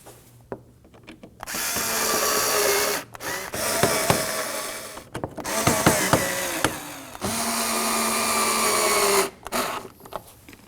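Power driver snugging Phillips screws on a 2016-2020 Kia Sorento 2.4L during radiator replacement, several bursts of whirring motor with ratcheting clicks, separated by short pauses, close and fairly loud.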